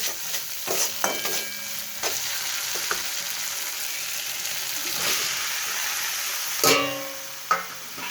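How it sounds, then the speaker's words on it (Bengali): Spices fry in hot oil in a pan for a Bengali chorchori, a steady close sizzle broken by sharp scraping stirs at irregular moments, with no voices. "এখানে দেখো চচ্চড়িটা করব বলে এখানে আমি মশলাটা ভেজে নিচ্ছি"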